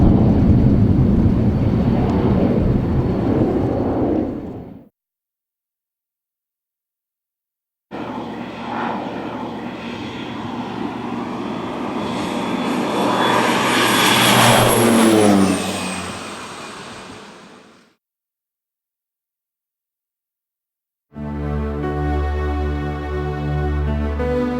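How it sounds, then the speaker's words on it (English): A small propeller airplane engine roars and revs loudly on takeoff, rising in pitch as it accelerates, with a short gap, then a steady droning engine hum returns. "they're all out on the ramp watching their airplane take off and fly for the first time."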